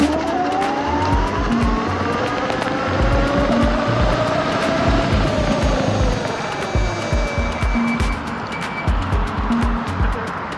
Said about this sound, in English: So the acceleration of the Wolf is pretty nice, and it's a pretty fast scooter